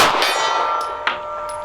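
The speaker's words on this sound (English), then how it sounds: "Back to the gong. One more time on the gong." Bullets from a Smith & Wesson M&P 2.0 Performance Center Metal Carry Comp pistol strike a steel gong target at a shooting range, giving loud metallic clangs that ring on, with a couple of sharp hits and no talk.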